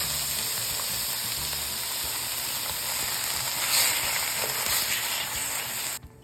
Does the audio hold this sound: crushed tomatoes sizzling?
yes